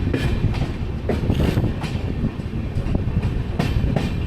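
Ranthambore Express passing through Jaipur station on a wired broad gauge line, a loud, steady rumble of rolling wagons with rhythmic clickety-clack wheel beats close by, no voices.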